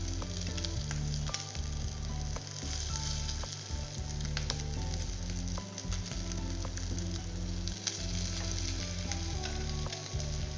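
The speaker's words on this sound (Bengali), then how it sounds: "এবার আমি হাই করে দিয়েছি, দিয়ে একটু চেপে চেপে দিচ্ছি যাতে ভেতরটা পুরোটাই ভালোভাবে ভাজা হয়।" Food is pressed down and fried in a pan on high heat, giving a loud, continuous sizzle and crackle with occasional scrapes and knocks from the pressing, heard close up for about ten seconds with no talking.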